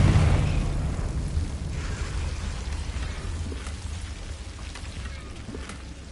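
A Confringo fire spell from Hogwarts Legacy bursts with a loud, deep blast up front, then rolls into a sustained rumbling, crackling tail that slowly fades across several seconds, with no voices.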